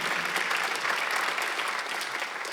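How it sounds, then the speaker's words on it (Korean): A Sunday worship congregation at a Korean church breaks into brief, lively applause, many hands clapping in a steady close wash. "박수하세요."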